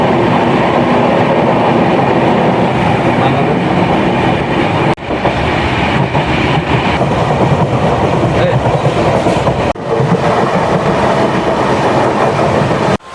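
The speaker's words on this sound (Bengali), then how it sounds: "সো বন্ধুরা, এই ট্রেনটি মোট 8টি স্টেশনে দাঁড়াবে।" A passenger train running from Mangalore to Murudeshwar, heard from inside as a loud, continuous rumble with rhythmic clickety-clack from the wheels on the rails and a couple of brief jolts.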